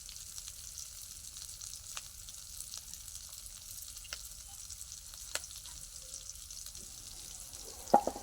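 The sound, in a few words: onions frying in a pan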